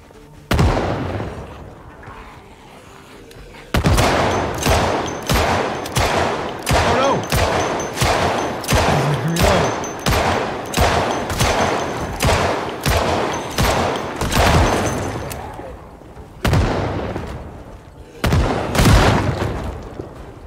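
Rapid gunfire in Project Zomboid: a long string of loud, evenly spaced shots in quick succession, then a pause and a few more scattered bursts, with no talking.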